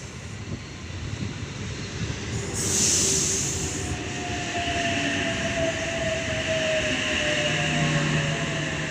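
A train rumbles in close and loud, with squealing wheels and a high hiss of brakes as it slows along platform 3 of a station.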